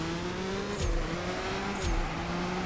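Race car engine in the CSR2 drag racing game revving steadily with gear shifts and a nitrous boost, two short bursts of added noise breaking a continuous droning tone, fairly loud and close with no talk.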